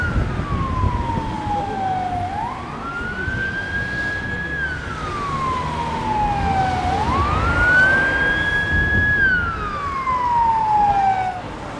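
A 112 ambulance siren wails in long rising and falling sweeps, loud and close, passing over steady traffic noise.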